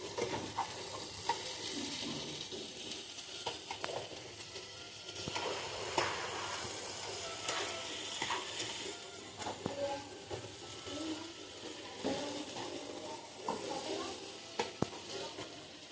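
Ingredients for paneer butter masala sizzle steadily in a pan while a utensil stirs and scrapes intermittently, with occasional clinks against the cookware.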